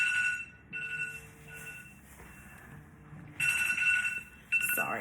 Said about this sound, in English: Sorry, that's my alarm for my birth control.